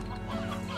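Rooster clucking in the video game Slime Rancher, a steady run of close, loud clucks filling the moment with no talk over it.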